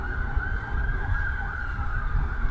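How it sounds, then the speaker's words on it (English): A steady wailing siren tone holds over a low rumbling background, sounding somewhat distant and continuous throughout. "Sirens going off everywhere."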